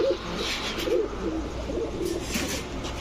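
Naptha pigeons, a male and female pair, give soft throaty coos in several short bursts, near and moderate in level over faint background noise.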